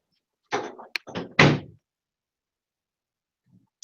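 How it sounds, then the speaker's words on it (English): An office door shut by hand, a few quick thumps and a firm closing bang in close succession, near and clear, followed by quiet with a faint rustle near the end. "And I'm going to shut my door."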